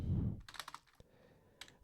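Computer keyboard typing during x86_64 assembly coding, a quick burst of several close key clicks after an initial low thump, then a pause and a final pair of taps, alone without talk.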